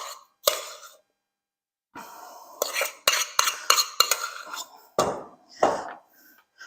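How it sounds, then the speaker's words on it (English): Mashed potatoes are spread over mince in baking dishes for an Irish cottage pie. Metal utensils scrape and clink against the dishes in a series of sharp, close taps and smears, separated by short pauses. "we're going to cover it with the mashed potatoes"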